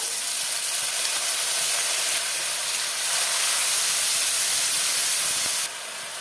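Onion and green chilli paste hitting hot oil for a Bengali katla fish curry, a loud, dense, steady hiss of sizzling that runs throughout and drops slightly at the very end.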